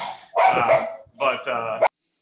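A dog barks in two close, loud bursts of rough, throaty barking, the second burst ending abruptly before a moment of silence.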